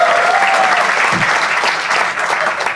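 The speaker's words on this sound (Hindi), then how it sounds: "एक बार जोरदार तालियां for शाश्वत महेश्वरी यार" Loud, sustained audience applause for a comedian on a comedy talent show, a dense wash of many hands clapping close and full that tapers slightly at the end.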